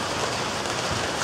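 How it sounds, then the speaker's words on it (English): Steady rain pours down in the Florida Everglades, a dense, even hiss of drops with no pauses and no voices. "Yay, rain!"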